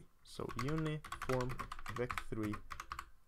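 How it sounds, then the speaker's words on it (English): Someone types OpenGL C++ shader code on a computer keyboard, with quick key clicks almost buried under continuous talking. "Let me make sure I type the name correctly here"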